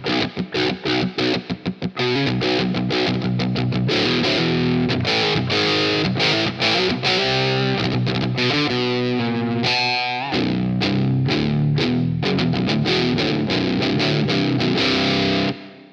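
Crunchy, distorted electric guitar playing chords and riffs continuously through an amp-simulator plugin, loud and full, with a brief pause in the middle before it resumes.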